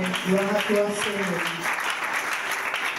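A church congregation claps in acclamation of Jesus, a short, dense burst of close applause mixed with voices calling out, fading into steady clapping.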